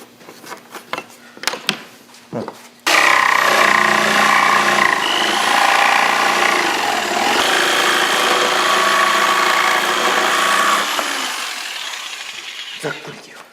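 A power tool roughly cutting wooden boards for a spice rack in a woodworking shop, starting abruptly after a few knocks and voices, then running loud and sustained for about eight seconds before winding down.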